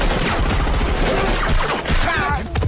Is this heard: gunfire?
yes